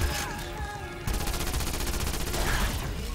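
Rapid, continuous automatic fire from a PPSh-41 submachine gun in Call of Duty Black Ops Cold War, a dense rattling stream of shots close and loud after a brief opening moment.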